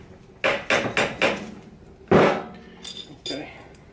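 A Coleman 125 ATV engine cylinder is worked down onto its dowels during a head gasket replacement, giving a series of sharp metallic knocks and clinks, four quick ones then a few more spaced out, close by.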